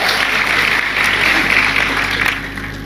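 A crowd at a Gujarati folk comedy show applauds loudly and continuously, a dense roar of clapping filling the whole moment without a break.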